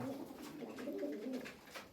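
Soft, low pigeon coos repeat in a gentle rolling rhythm, several birds murmuring nearby over a faint background.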